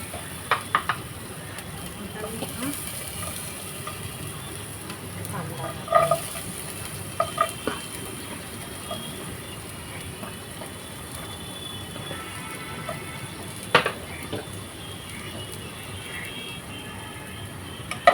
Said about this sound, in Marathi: हे सगळं आपण छान परतवूया